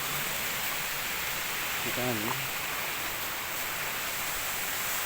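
River water rushes steadily near a waterfall, a loud and continuous broadband roar that fills the whole clip, with a brief voice speaking once in the middle.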